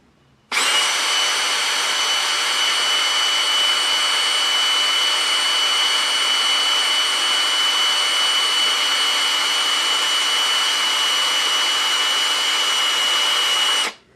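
A power drill with a cheap twist drill bit runs steadily for about thirteen seconds, a constant high whir that starts abruptly and stops cleanly, with no voices.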